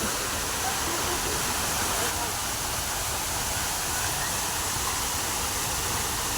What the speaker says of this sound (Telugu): వాటర్ ఫ్లో అవుతా ఉంది బాగా.